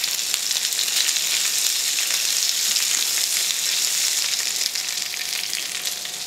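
Potatoes frying in a pan give a dense, loud, continuous sizzle and hiss close up, with faint stirring underneath and no talking.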